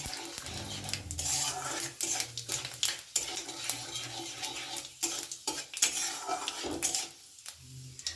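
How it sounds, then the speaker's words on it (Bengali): Dried red chillies and a half spoon of Bengali fish spice mix being stirred in hot mustard oil in a pan, with steady sizzling broken by repeated scrapes and clinks of a spoon against the metal, close and fairly loud, no voices. "ফোড়নটা একটু ভালো করে নেড়ে নেব"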